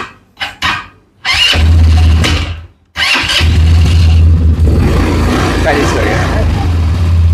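An ATV quad bike with automatic gears cranks with a couple of short bursts, catches into a loud revving run, cuts out briefly, then restarts and settles into a steady, close, rumbling idle.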